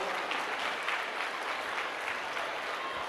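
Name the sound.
audience applause for the school team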